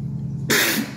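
A single sudden sneeze from a person close by bursts out loudly after a quiet moment and fades over about half a second, with a low hum underneath.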